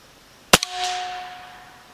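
A Benjamin M257 air rifle fires one sharp, close crack followed by a faint ringing tail and a lingering echo.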